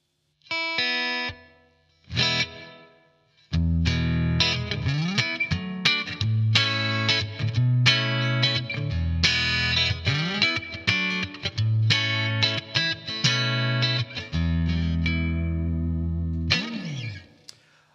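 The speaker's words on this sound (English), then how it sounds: "Let's put some reverb on." Electric guitar played through a Blackstar AMPED floorboard amp on its clean channel with light reverb, with strummed chords and picked notes in phrases that swell and ring out, loud and close, with no talking.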